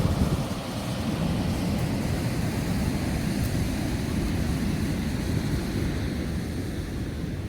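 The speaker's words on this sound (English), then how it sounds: "Bottom side of the dam. That's pretty turbulent water." Turbulent water rushes steadily below a dam at the upper headwaters of the Mississippi River, a loud, continuous roaring wash with no pause.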